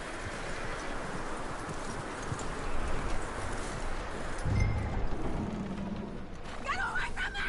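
Horse hooves clip-clop at a steady walking pace in Red Dead Redemption 2, moderately loud, with a brief thud and other game sounds partway through.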